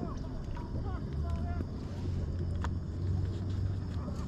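Wind gusts outdoors by a riverside where fish is being cooked over a flame, a continuous low rumbling buffet on the microphone with faint background sounds.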